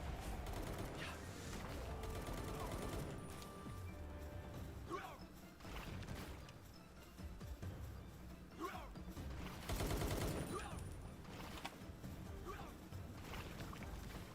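Gunfire from weapons in the video game Palworld, a string of sharp bursts and crashes recurring every couple of seconds over a dense, busy game soundscape with mechanical clatter.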